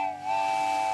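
Percy the steam engine's new whistle blows a loud, steady, clear tone with a breathy hiss, held for about a second without voices.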